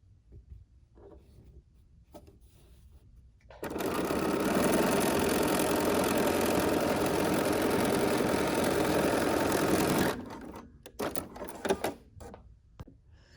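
A sewing machine stitches a quilt in one continuous run of about six seconds, a loud steady whirring hum, with quieter handling clicks and rustles before and after.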